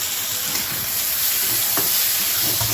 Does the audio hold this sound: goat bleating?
no